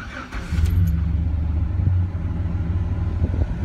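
A 2006 Chevrolet Silverado pickup with a V6, 5-speed and check-engine light on cranks and catches, then settles into a steady low idle rumble, close and fairly loud with no talking.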